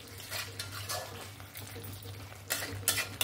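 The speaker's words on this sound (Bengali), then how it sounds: "গরম মশলাটা দিয়ে ভালো করে একবার নাড়াচাড়া করে নিলাম।" Potato and pointed gourd curry with soybean being stirred in a pan after garam masala goes in, soft scraping and gentle sizzle under a steady low hum, with a few louder spoon-against-pan clinks near the end.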